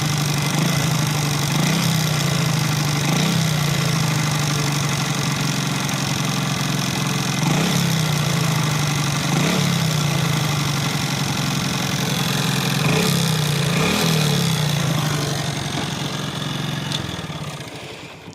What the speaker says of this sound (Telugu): ఇప్పుడు కానీ వినబడుతుంది లైట్గా క్రాంక్ సౌండ్